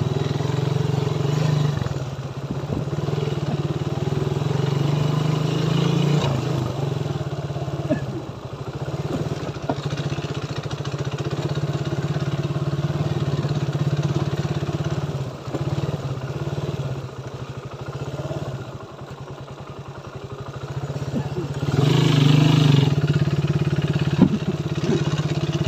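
A motorcycle rides a rough, uneven road, its mid-pitched engine droning steadily and loudly throughout with rattling clatter from the bumps and brief surges in revs.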